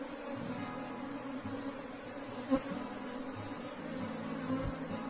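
Africanized honey bees buzzing around an open hive, a steady dense hum of many insects close by, with occasional soft knocks of the frames being handled.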